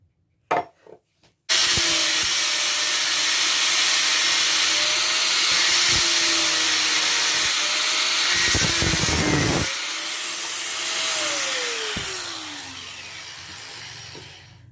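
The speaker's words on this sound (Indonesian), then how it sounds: "Terpaksa menggunakan gerinda akhirnya" Angle grinder reshaping a meat knife blade from micro bevel to full flat, a loud continuous whine that dips and rises in pitch as the blade is pressed and eased, close and without talk.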